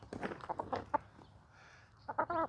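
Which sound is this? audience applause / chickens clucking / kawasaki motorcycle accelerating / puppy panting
chickens clucking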